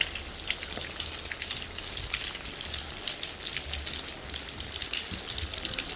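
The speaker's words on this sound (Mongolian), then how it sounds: "Борооных нь ингээд ороод." Rain falls steadily with dense, crackling drops spattering on nearby surfaces, a constant close patter with no voices.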